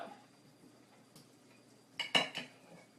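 A fork and spatula clinking against a pan while cooking chicken curry: a few faint scrapes, then a quick cluster of sharp metallic clinks, close and otherwise quiet.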